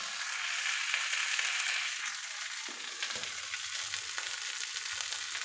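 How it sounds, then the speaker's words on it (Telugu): Mint pickle ingredients frying in a pan, a steady close hiss and sizzle with occasional scraping stirs, continuing alone without talk. "ఇలా ఫ్రై చేసుకుంటూ ఉండాలి. ఎక్కడ అడుగు అంటకుండా ఫ్రై చేయాలి"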